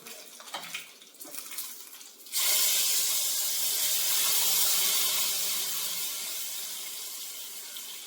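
A hot tempering of urad dal, dried chillies, mustard seeds and curry leaves is poured into Thiruvathira puzhukku. After quieter handling, a sudden loud, sustained hissing sizzle erupts and fades gradually over several seconds.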